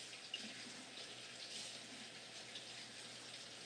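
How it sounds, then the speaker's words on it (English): A tap runs steadily and faintly while hands are washed under the water, a soft continuous flow with no break. "I'm going to wash my hands"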